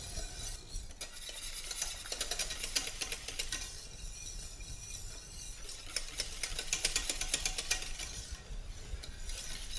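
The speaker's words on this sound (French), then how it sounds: "je mélange et je gratte bien le fond de la casserole pour éviter que ça brûle" Whisk and spoon stirring a mixture in a saucepan, scraping the bottom while making pastry cream for Swiss brioche buns, a steady close rhythmic clatter and scrape running throughout with no talking.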